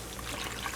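Water poured into a foundry refractory mix in a bucket, a soft steady trickle and slosh heard up close, faint and continuous.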